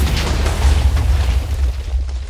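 A landmine trap in Minecraft explodes, a short deep boom with rumbling low-end that fills the brief moment loudly and then fades slightly.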